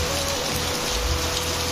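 Rain falls steadily in a short, continuous wash of dense patter, with no voices.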